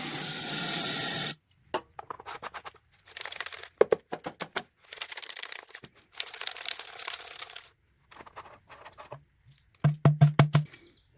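Brake cleaner is sprayed into the tank of a Shindaiwa T242 weed whacker: one steady hiss, then a series of short, broken spurts and rustles, ending in a few quick rhythmic bursts.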